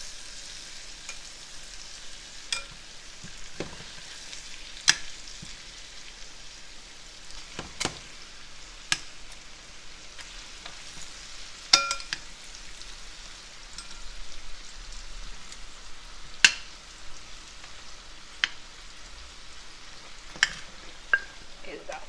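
Oxtails fry in a pot with a continuous soft sizzle, punctuated by intermittent sharp pops and clicks throughout.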